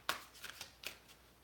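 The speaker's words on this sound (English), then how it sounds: "I'm going to keep shuffling" Tarot cards being shuffled by hand, a few quick papery riffles and flicks, soft and close in a quiet room.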